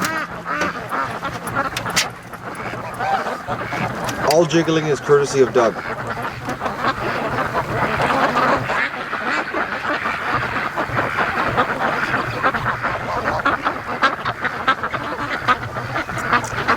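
Free-range ducks quack on a lake while a person talks over them; the calls come in scattered bursts, clearest near the middle, with some goose-like honks mixed in.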